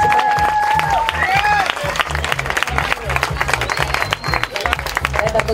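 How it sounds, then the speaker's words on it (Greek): Applause and crowd cheering for the fighters at a fight club bout, a dense, steady roar of clapping with a pulsing low beat underneath, some whistles, and voices talking over it. "Ένα χειροκρότημα στα παιδιά"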